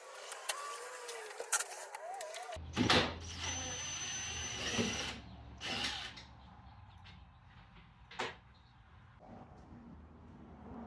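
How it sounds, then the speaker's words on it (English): An impact drill and wrench remove bolts while mounts are fitted to a Can-Am Outlander ATV, with short whirring bursts and rattling impacts alongside metallic clanks at close range, separated by quieter gaps. "we'll use our wrench and our impact drill to remove all these bolts"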